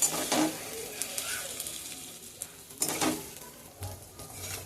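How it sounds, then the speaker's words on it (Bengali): Tadka masala frying in a pan over low gas and being stirred, a soft continuous sizzle broken by several louder scraping stirs near the start and middle, with no talking. "গ্যাসটা আস্তে দিয়ে একটু কষে নেব তড়কা মশলাটা দেওয়ার পরে"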